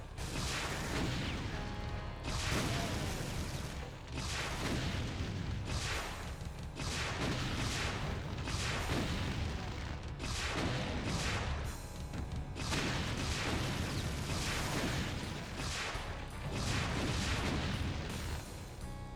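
Dense, continuous gunfire and booming blasts fill a Doom map, Hell Revealed II played with the Brutal mod, as chaingunners fire in sustained volleys broken by short pauses; loud and close, no talking.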